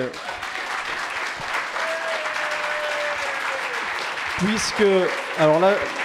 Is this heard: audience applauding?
yes